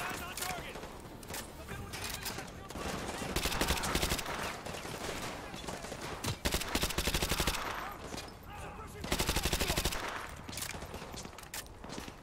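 Rapid suppressed UMP gunfire in Modern Warfare 2 rattles in long sustained bursts with brief pauses between strings of shots, loud and close, with someone talking over parts of it.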